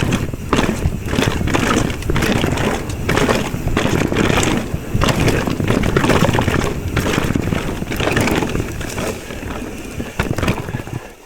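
Mountain bike ridden over a trail while pumping it, a steady rolling rumble with rhythmic bumps and rattles throughout, close and loud.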